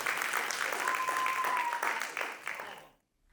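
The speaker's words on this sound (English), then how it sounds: "Big round of applause for Bang Cookies" An audience applauds the Bang Cookies team at a cookie competition final: a dense, even wash of clapping for nearly three seconds that ends abruptly in silence.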